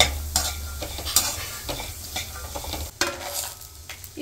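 Tamarind, roasted gram, peanuts and dried red chillies are briefly fried in a pan for chutney, with a spatula stirring and scraping in irregular strokes over a low, steady sizzle. No voices.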